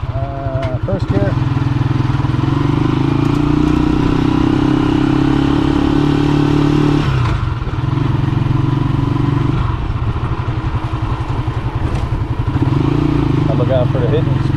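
Kia car engine pulling in first gear on a city street in Angeles City, a loud, close mid-pitched drone with rumbling and clatter that dips near the middle, while people talk over it.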